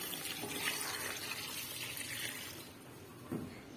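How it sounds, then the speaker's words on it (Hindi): Water is poured steadily into a cooking pot for beef shami kabab with spices and salt, a continuous splashing gush close by that eases toward the end, with no talking. "इसके अंदर मैं 2 कप पानी ऐड कर दूंगी।"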